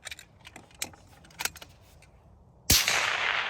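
A precision rifle fires once on a long range shooting course, a sharp loud crack with a lingering outdoor rumble, preceded by faint clicks and rustles of handling.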